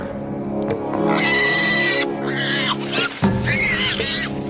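A dragon's call in a fantasy nature documentary shifts pitch to mimic distressed prey: a series of wavering, harmonic cries, some high and bird-like, some horse-like, over a steady low rumble, loud and close.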